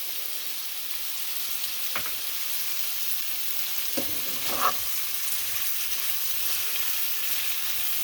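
Onion masala sizzles steadily in a hot pan for aloo gobi, a constant close frying hiss with a few soft scrapes and clinks as it is stirred, no voices.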